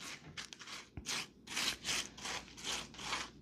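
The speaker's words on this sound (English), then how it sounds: "So we're going to spread this around on top of these brownies." A spatula spreads topping across a pan of brownies on a home porch, giving repeated soft rubbing and scraping strokes in a steady rhythm, close and moderately loud, with no talking.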